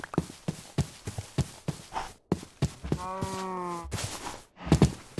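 Minecraft cows being hunted, with several short hits and animal moos mixed with rapid footstep-like thumps; one cow gives a clear, drawn-out low moo partway through.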